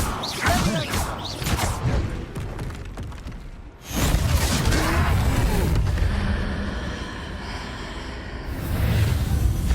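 A Confringo fire spell blast during a troll fight in Hogwarts Legacy, with crashing, whooshing impacts and booms; a loud burst fades out midway before a second swell of rumbling effects returns.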